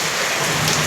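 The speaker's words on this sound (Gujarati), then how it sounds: "મારે વરસાદ ચાલુ છે" Steady Gujarat monsoon rain pours down nearby, a dense, loud, unbroken hiss of drops hitting surfaces.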